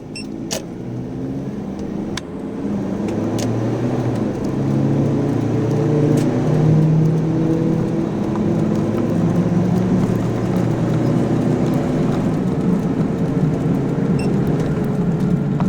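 A 2012 Ford Everest with automatic transmission and a throttle controller accelerates hard from standstill to 100 km/h, its engine note rising and holding loud and steady inside the cabin through shifts, with no talk.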